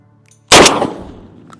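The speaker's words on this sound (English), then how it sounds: "I'm gonna shoot this one off in the distance." A Mossberg 990 shotgun loaded with double-aught buckshot fires one loud, sharp blast outdoors toward a distant target, followed by a ringing tail that fades over about a second.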